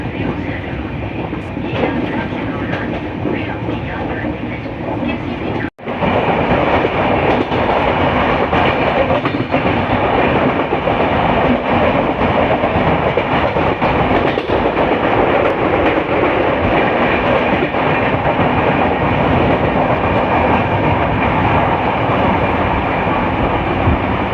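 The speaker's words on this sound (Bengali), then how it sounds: "এটা হচ্ছে blue line, north south metro, Kolkata মেট্রোর ব্লু লাইন" A Kolkata Metro Blue Line (North–South) train runs loudly and steadily at close range, a dense rumble with rhythmic wheel clatter continuing throughout and one brief dropout early on.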